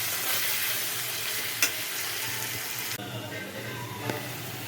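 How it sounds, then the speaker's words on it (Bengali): Gobindobhog rice and potatoes sizzle in hot oil while being stirred, a constant crackling hiss with a few sharper scrapes of a spoon against the pan. "চালটাকে ভালো মতো করে আলুর সঙ্গে ভেজে নিতে হবে"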